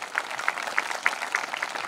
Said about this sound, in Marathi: एकदा जोरात टाळ्या व्हायला पाहिजे.